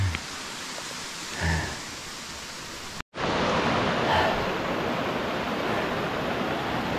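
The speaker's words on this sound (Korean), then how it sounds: "지금 계곡까지 내려왔고요." A mountain valley stream flows with a steady rushing wash of water, near and continuous, broken by a brief handling bump and a momentary dropout, with faint movement sounds under it.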